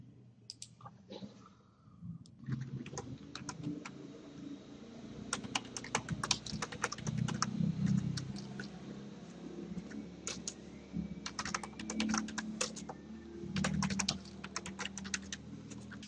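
Fast bursts of clicking keystrokes on a computer keyboard while customer data is entered into accounting software, close and steady with short pauses and no speech.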